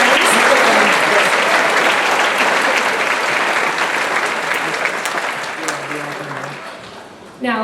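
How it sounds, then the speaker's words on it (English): Loud, sustained applause from a graduation audience for the band, a dense wash of clapping that slowly thins and fades toward the end, with a brief voice at the very close. "Let's give one more round of applause to Colin, Schmidt, his band, Jim Jackson, and Dennis."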